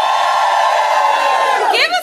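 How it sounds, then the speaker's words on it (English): A live podcast audience in a hall cheers and whoops together in a loud, sustained crowd roar that holds steady before fading out at the end. "Give me a cheer if you've seen the podcast"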